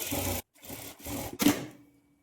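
A sewing machine runs short top-stitching bursts on blouse lining fabric, three quick whirring runs separated by brief pauses, close and fairly loud, ending with a fading hum.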